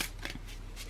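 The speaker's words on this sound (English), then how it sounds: "So I'll try give them a shuffle on screen." A thick deck of Heavenly Bodies astrology oracle cards being shuffled by hand, a few short, soft riffling swishes close up in a quiet room.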